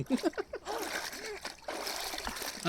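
A child splashes clothes about in water while hand-washing laundry, with irregular splatters and sloshes close by under an adult's talking and a voice.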